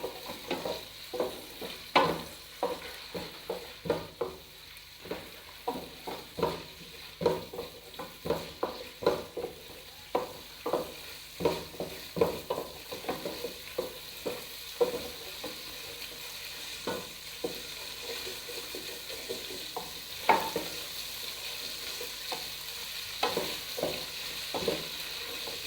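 Ground garlic and ginger paste fries in a pot on the stove for biryani, a soft continuous sizzle broken by frequent clacks of a spoon stirring, fairly quiet and with no talking.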